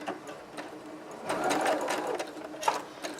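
Sewing machine running a 5/8 inch seam on a fabric sample, with a steady mechanical whir. It starts with short bursts, then runs in a louder continuous stretch, and ends with a brief sharp click.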